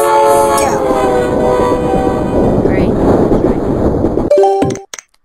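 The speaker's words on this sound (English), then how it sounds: "Train. That was train." Train in the Henry Stickmin game, a loud sustained horn blast over a rushing, roaring rumble of the passing train, ending in a short burst of game sound effects.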